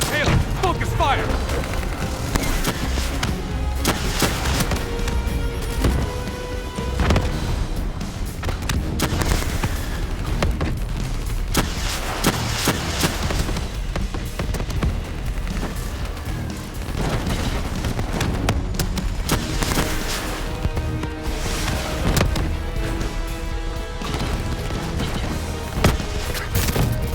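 Dense gunfire and booming explosions from a Call of Duty Black Ops III battle, loud and continuous over an orchestral score, with voices calling out intermittently.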